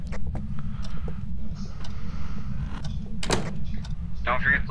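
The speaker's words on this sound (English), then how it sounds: "I heard a door slam" A door slams in the ghost-hunting game Phasmophobia, a single sharp thud over steady low background hum, with people talking during the clip.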